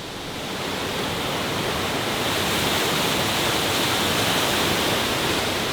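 Rushing creek water pours beneath a bridge on a mountain trail in the Great Smoky Mountains, a loud, steady broadband roar that swells slightly at the start and then holds constant throughout.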